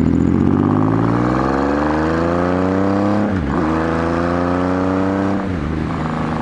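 Triumph Rocket III motorcycle accelerating hard on wide open throttle, the engine note climbing steadily, then dropping sharply at two clutchless upshifts before rising again, loud and continuous with wind noise and no talking.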